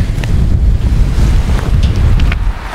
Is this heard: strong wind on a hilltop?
yes